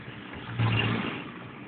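A car engine driving at about 40 km/h through town traffic in San Mateo, a close mid-pitched motor hum that surges briefly as it accelerates, then settles.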